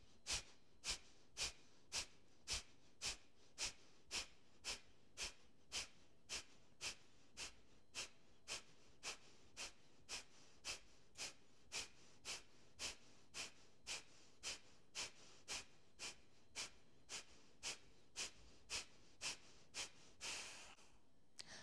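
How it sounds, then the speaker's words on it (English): Rapid, forceful Kapalabhati exhales during a yoga flow, about forty sharp puffs of breath through the nose in a steady fast rhythm, close and clear with no talking. "Two rounds of Kapalabhati, option to join along."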